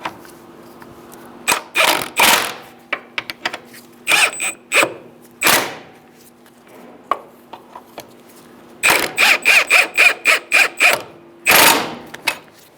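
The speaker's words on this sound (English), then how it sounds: "we are tightening up our 2-bolt, 1-nut bracket in the back." Ratchet wrench tightening the two-bolt, one-nut rear bracket of a front lower control arm on a 2014-2018 Subaru Forester: bursts of sharp, rapid clicking strokes separated by pauses, close and loud with no talking.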